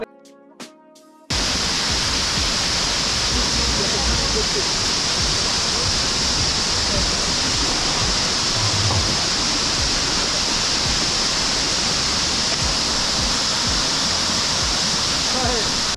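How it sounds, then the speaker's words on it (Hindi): A mountain waterfall on a high Himalayan trek in Himachal roars in a steady, loud broadband rush that fills the whole stretch, after a brief moment of speech at the very start. "ऊपर का ये झरना चल रहा है"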